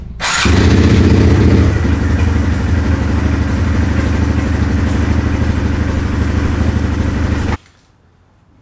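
A Honda Grom motorcycle with a Kitaco clutch cover and ECB Racing clutch fires up close by and settles into a loud, steady idle for several seconds before the engine cuts off abruptly.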